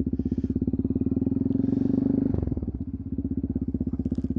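A motorcycle engine pulses in a fast, even idle thump close by, rises in pitch as the rider revs up while releasing the clutch, then drops abruptly back to a steady chugging rhythm.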